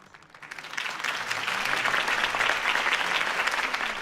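Applause for a campaign speech in a video game, a crowd's clapping swelling up from quiet to a loud, dense, steady roar that holds to the end.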